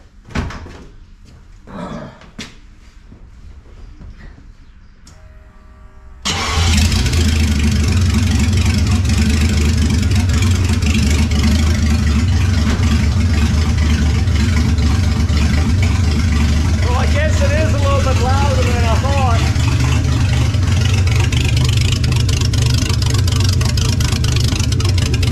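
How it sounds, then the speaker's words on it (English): A 1930 Ford Model A fitted with a V12 engine and header caps open starts after a few quiet clunks, then runs loud, rough and continuous for about twenty seconds. "I'll crank this sucker up one time and see what it sounds like with the caps open"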